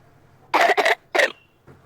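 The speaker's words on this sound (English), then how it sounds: "Cough." Two sharp coughs in a row from a girl being examined in Nigeria, then a third after a short gap, close and clear with near silence around them.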